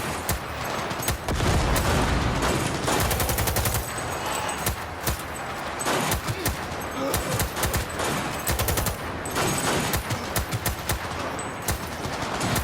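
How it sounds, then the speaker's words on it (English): Dense, relentless close-range gunfire in Cyberpunk 2077, loud rapid automatic bursts and sharp shots filling the whole stretch with barely a pause, with brief shouted voices underneath. "Firing at close range! Go, go, go! Fire!"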